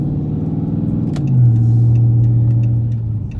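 A straight-piped 2013 Chrysler 300C under wide-open throttle, a loud, deep engine drone that jumps up sharply after a brief click and holds a steady low roar, heard close from inside the car.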